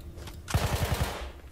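An automatic weapon in Battlefield 1 rips off a rapid burst of about six close, punchy shots in under a second, the bursts ringing out over a low rumble of battlefield ambience.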